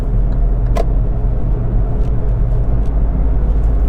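A loud, constant rumble of a car engine and road noise from inside the vehicle as it accelerates onto a highway, steady throughout with no talking.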